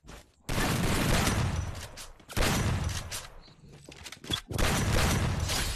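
Three sustained bursts of rapid automatic rifle fire from the video game Free Fire, a FAMAS assault rifle, loud and close, separated by brief pauses, with a faint mechanical clatter between volleys.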